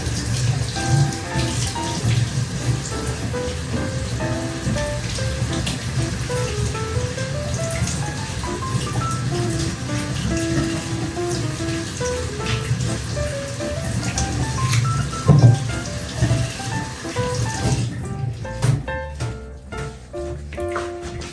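Ginger and lemon washed under running water, a steady splashing trickle with small knocks and clatters of handling, continuous for around eighteen seconds before tapering off.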